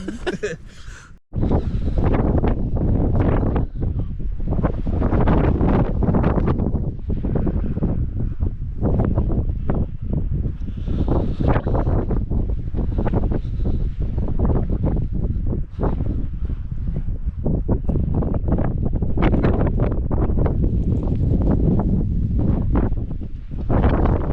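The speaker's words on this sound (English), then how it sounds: "It's only 43 mile an hour wind right now, apparently, and it's going to get to 60 odd." Strong winter storm wind roars across an exposed moorland summit on Kinder Scout in the Peak District, a loud, continuous buffeting rush that batters the microphone for the whole stretch with only brief dips.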